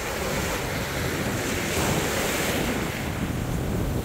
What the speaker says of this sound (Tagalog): Dagat. Lakas ng dagat.